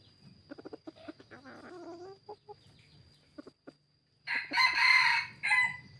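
A rooster crows loudly near the end, a long harsh call, after a stretch of soft clucks and scattered farmyard chatter.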